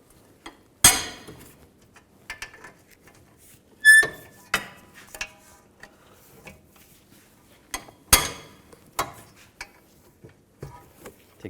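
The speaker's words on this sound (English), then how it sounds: "Use a 19mm socket. Take these two caliper bracket bolts out." Caliper bracket bolts come out under a 19mm socket during front wheel hub work on a 2013-19 Nissan Sentra, giving sparse, quiet metallic clicks and clinks at irregular intervals.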